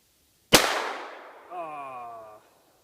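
A single sharp shot from a 1911 pistol firing a weak handloaded round that stovepipes: one close, loud crack with a quick decaying tail, followed by a brief voiced sound.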